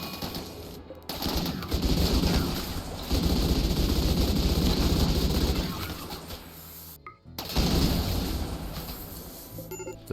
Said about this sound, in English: in overwhelming minigun fire